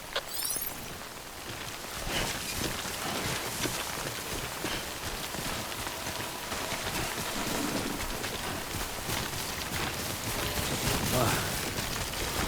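Steady rain in the video game Death Stranding Director's Cut, a dense continuous hiss of drops on surfaces with scattered sharper spatters, fairly loud and unbroken throughout.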